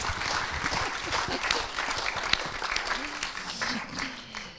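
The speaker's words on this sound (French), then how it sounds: "que vous pouvez applaudir si elle a un micro" Applause from an audience at a CGT event, sustained clapping from many hands with a murmur of voices mixed in, fairly loud and continuous throughout.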